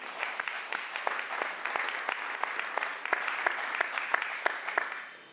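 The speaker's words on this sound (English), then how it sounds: "let's give them a round of applause" A room of people at a public meeting claps after an award is announced, with dense overlapping hand claps that carry steadily for about five seconds, moderately loud and fairly near, with individual sharp claps standing out before fading at the end.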